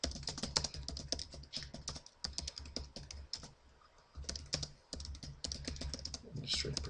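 Rapid clattering keystrokes on a computer keyboard, typed in quick bursts with a couple of short pauses, close and fairly loud.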